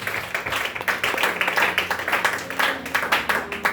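A church congregation claps during worship, a loud, rhythmic and sustained burst of many hands with a quick regular beat and faint voices mixed in.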